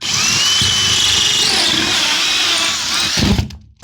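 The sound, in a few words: 45 mm hole saw cutting a power point hole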